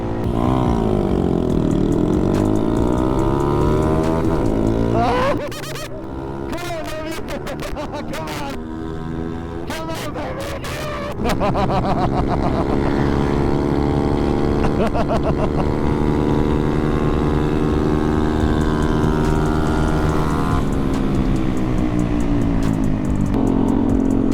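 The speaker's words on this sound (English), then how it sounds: "The Navi made easy work with the stock rod, but Tom messed up his launch, so let's race" A big-bore Honda Navi mini motorcycle with a stock connecting rod and CVT drive races flat out, its engine droning and rising in pitch, loud and close, dipping briefly midway before surging again.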